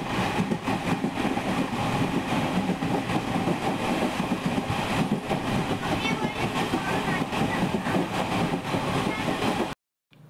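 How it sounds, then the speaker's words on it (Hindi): Steady loud rumble and rattling clatter from inside a fast-moving passenger train, continuous wheel and carriage noise filling the whole stretch before cutting off abruptly near the end. "और ट्रेन इतनी जल्दी से भग रही थी"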